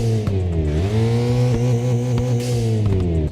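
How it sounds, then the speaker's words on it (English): A video game racing car engine drones and revs in steady harmonic tones, with sharp exhaust pops and a turbo whine cutting in every so often. "We also added some new turbo sounds and exhaust pops for the Drift"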